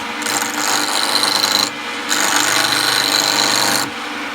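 A roughing gouge scrapes against spinning wood on a lathe in two long, loud, harsh rasping passes with a short pause between them. The surface noise is steady and broadband, and no one speaks.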